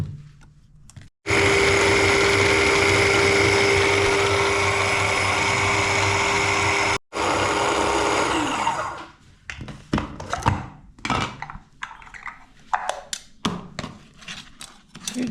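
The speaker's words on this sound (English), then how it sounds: "we'll put it in our grinder." An electric kitchen grinder blitzing onion, garlic and chili, a loud steady whir running for about six seconds with a brief cutoff, then restarting and fading into a scatter of clunks and scraping knocks.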